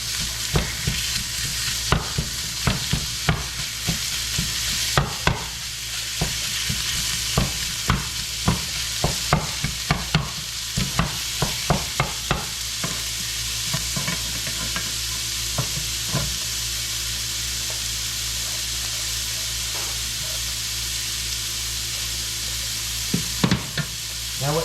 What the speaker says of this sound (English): Just going to take your spatula right here. Break it up.